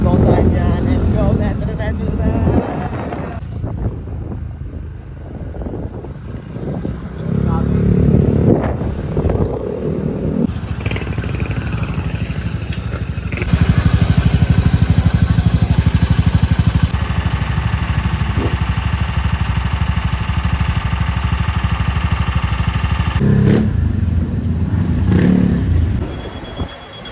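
Engine of a motorcycle tricycle on a ride to a Save More mall, a steady loud drone with wind buffeting the microphone, louder stretches of running noise midway, while people talk over it at the start and end.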